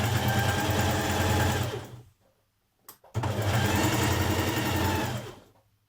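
Sewing machine stitching a sweatshirt sleeve in with a 1.5 cm seam allowance, running in two steady, close bursts of rapid stitching separated by a short pause with a faint click.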